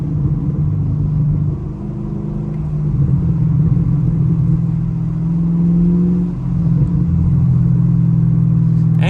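Deep, steady V8 exhaust burble from a Chevrolet Camaro SS cruising on wet pavement, heard up close with rising and falling revs, a short drop-off near the end, then rumbling on again.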